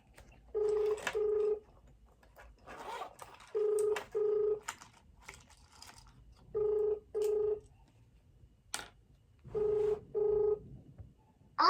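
Phone call being placed in India: paired electronic dialing tones and ringback beeps come in regular double bursts, clear and close, with quiet gaps between them.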